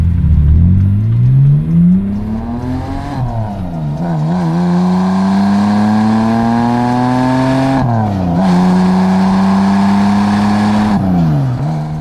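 BMW 330i driving away from a shop onto the road, its engine loud and close with rising and falling revs through several gear changes, no talking.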